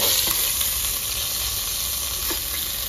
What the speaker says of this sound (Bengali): মাছটা হয়ে গেছে ভাজা, এবার তুলে নেবো